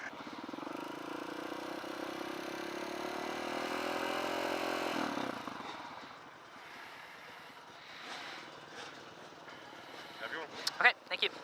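A Kawasaki KLX dirt bike engine revs at a hare scramble race sound check. A loud, sustained, buzzing tone climbs in pitch for about five seconds, then drops away into quieter idle and ambient noise with a few faint knocks.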